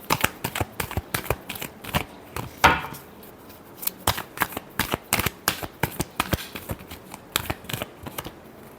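Tarot cards being shuffled by hand in a rapid run of crisp, close riffling slaps, the rhythm steady throughout with only brief pauses and no talking.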